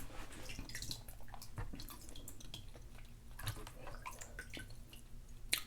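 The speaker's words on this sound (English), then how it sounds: "So once you're done, just wash your hands." Hands are washed under running water after eating fufu with a red-oil soup, giving a steady close splashing and trickling with small drips and slaps throughout.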